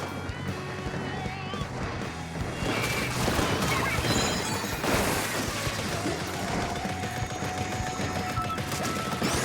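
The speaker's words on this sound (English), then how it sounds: "Drink's getting bombarded by missiles." Missiles rain down on a player in a Splatoon match, a continuous dense barrage of crashing, thudding impacts and bursts layered over busy game music and effects, loud and sustained throughout.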